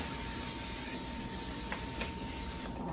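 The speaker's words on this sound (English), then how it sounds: "so we're gonna use cooking spray." Cooking spray hisses steadily from a can into a brownie baking pan in one continuous close burst lasting nearly three seconds, stopping abruptly.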